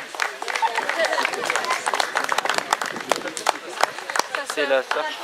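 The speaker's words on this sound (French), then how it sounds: "on va les applaudir très fort, tous les trois" An audience claps for three cadets at a ceremony, sharp irregular hand claps close by, mixed with crowd chatter and talking voices.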